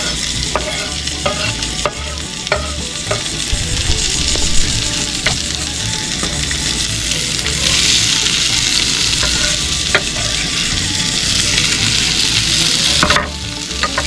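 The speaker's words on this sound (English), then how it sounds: "that bacon's just starting to render. Go ahead and put in our onions and our potatoes" Bacon, onions and potatoes fry loudly in a cast iron pan, a dense continuous sizzle broken by frequent scraping stirs, with no voices.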